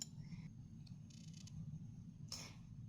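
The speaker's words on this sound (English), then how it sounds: "And I cut my thread, and I will also cut my tail thread." Small scissors snip beading thread while an earring is finished, with a few quiet, short cuts spaced across a near-silent background.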